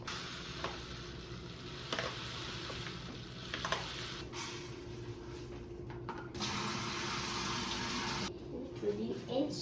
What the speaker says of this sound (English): first you need to rinse off your rice